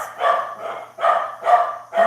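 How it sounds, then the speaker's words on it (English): Lily the dog barks five times in quick succession, sharp close barks at a steady rhythm, loud and clear with no talking. "Why is Lily barking like that?"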